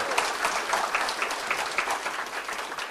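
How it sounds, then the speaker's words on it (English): Audience members at a power breakfast on data centers and energy use applaud board members with dense, steady clapping from a sizable crowd, fairly close and sustained without talk. "don't hold your applause again"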